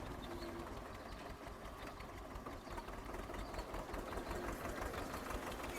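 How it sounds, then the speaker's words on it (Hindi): A tractor engine runs steadily while forming raised ridges in a farm field, giving a faint, continuous mechanical chugging drone with a rapid rhythmic pulse and no talking. "अभी और मेड़ देखेंगे हम, मेड़ कैसे बनेंगी ट्रैक्टर से।"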